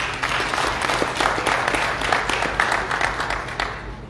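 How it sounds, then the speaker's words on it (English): Sustained applause from an audience, a steady wash of many hands clapping throughout, fairly loud and continuous. "give yourselves a big round of applause."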